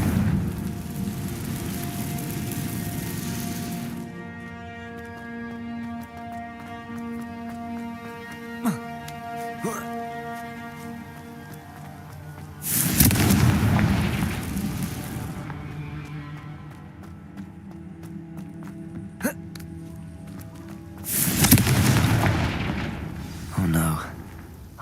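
Three booming Confringo blasting-spell explosions go off in Hogwarts Legacy, each a loud broadband burst that fades out, with a sustained musical drone between them and brief speech.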